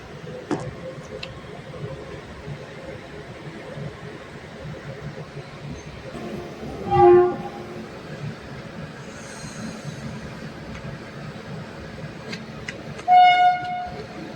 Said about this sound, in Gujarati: ચાલો ઉપડી ટ્રેન